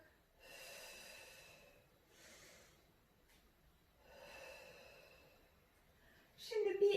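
During a Pilates exercise, deep breaths are drawn in and pushed out in slow, audible cycles separated by quiet pauses, close to the listener, ending with a short voiced sound.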